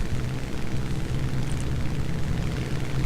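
A bridge being destroyed in the War Thunder air battle game, a dense, steady roaring rumble of explosion and engine noise, loud and continuous with no distinct separate blasts.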